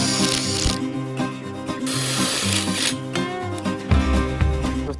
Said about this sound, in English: Now it's time to just drill all of these in these little holes all over the show